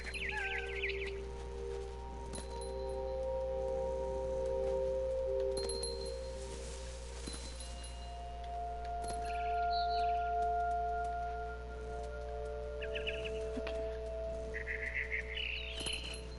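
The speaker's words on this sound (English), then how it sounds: "Then I heard chirping outside my window. It was a barn swallow going back to her nest." A barn swallow's chirping in the video game What Remains of Edith Finch: short, high, bright chirps in a few brief bursts over a steady low game ambience and tonal background hum.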